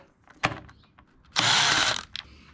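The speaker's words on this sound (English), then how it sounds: "Time to take the old T30 and get these cover bolts off." A power tool with a T30 bit works on the transmission cover bolts of a Jeep JKU NAG1 transmission, giving a sharp click and brief ticks followed by a loud half-second whir, then a few small clatters.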